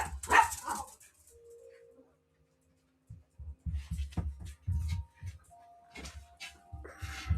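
A 16-year-old small dog barks in short bursts, a few sharp yips early on, then a run of closer, louder barks and whimpers after a brief quiet, with a little talk mixed in near the end.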